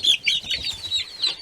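A backyard chicken clucks close by in a rapid, uneven series of sharp, high calls.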